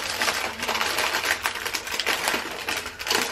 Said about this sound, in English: Excuse the crinkling.